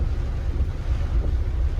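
Wind rumbles and buffets against the microphone in a steady low roar, with no voices.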